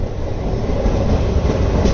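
The Pinakini Superfast Express runs toward Chennai Central, a loud, steady close rumble of wheels and carriage noise with no voices.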